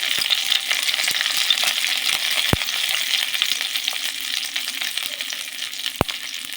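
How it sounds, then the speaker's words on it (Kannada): Mustard seeds spluttering in hot oil with cumin and curry leaves for vegetable sambar, a bright continuous crackle with many small pops and two sharp louder bursts. "ಸಾಸಿವೆ ಸಿಡಿಬೇಕು ಜೀರಿಗೆ ಕರಿಬೇವು ಇಂಗು"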